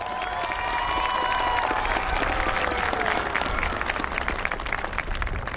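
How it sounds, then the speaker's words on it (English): Commencement audience at a high school graduation ceremony applauding and cheering, a dense steady wash of clapping with whoops and shouted cheers throughout, loud and sustained. "Let's have another round of applause for Lucas and Kenton."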